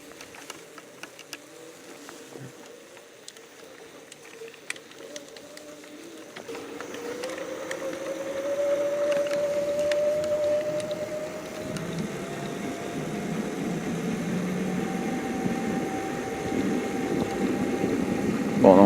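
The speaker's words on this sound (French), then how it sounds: "je vais baisser le moteur sur le vélo" Electric bicycle hub motor powering the rear wheel on a road ride with no pedalling, a steady whine that rises from about seven seconds in and holds, over a constant rolling drone.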